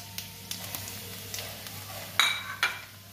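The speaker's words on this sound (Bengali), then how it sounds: "সরষের তেল, পাঁচ ফোড়ন দেব, জিরে ধনে লঙ্কা।" Panch phoron, cumin, coriander and chilli frying in mustard oil, a soft steady sizzle with light scrapes and a couple of sharper metallic clinks of a spoon against the pan near the end, no talk.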